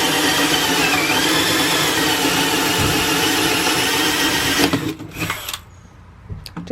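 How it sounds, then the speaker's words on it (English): A power drill whines loudly and continuously while boring drainage holes through the bottom of a wooden raised garden bed built from 2x8 boards, then the motor cuts out near the end, leaving faint handling noise. "about to take the drill and just put some holes at the bottom just for drainage purposes"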